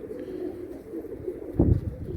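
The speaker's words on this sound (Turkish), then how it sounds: "Bir tane yalama kuş geldi." A pigeon coos softly nearby, low throaty murmurs with a slightly louder burst near the end, over a dull background hum.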